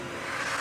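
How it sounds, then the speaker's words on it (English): An airstrike aircraft in the video game Call of Duty, a brief steady roaring engine rush that swells slightly, with no voices. "Airstrike."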